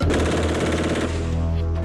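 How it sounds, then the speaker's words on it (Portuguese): Automatic fire from a Brazilian-made 5.56 caliber police rifle, loud rapid shots run together into a continuous burst lasting the whole moment with no pauses. "O especialista explica que esse tipo de fuzil tanto pode ser usado em rajadas como no tiro a tiro."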